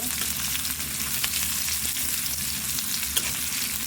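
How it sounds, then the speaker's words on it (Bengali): Onions fry in a pan, a loud continuous close-up sizzle that stays even throughout with faint stirring ticks. "পেঁয়াজটাকে ভালো করে একটু ভেজে নেব।"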